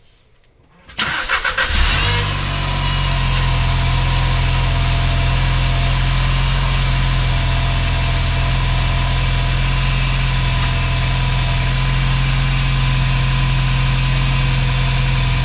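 After a short quiet moment, the 1.8-litre turbocharged engine in a 2015 Volkswagen Jetta catches and settles into a steady, smooth idle close by. Its even hum continues alone without interruption.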